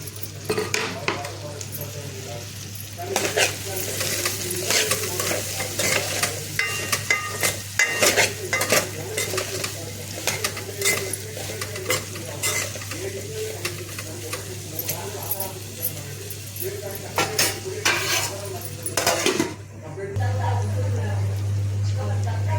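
Ridge gourd pieces frying in oil as they are stirred, a steady sizzle with frequent metallic spoon scrapes and clinks against the pan, a constant low hum underneath and a voice talking intermittently over it.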